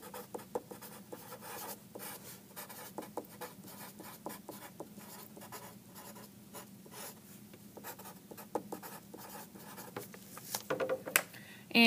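Blue colored pencils scratch layered directional lines across paper, a close, steady run of short rhythmic strokes at medium pressure, faint and dry, with no talking.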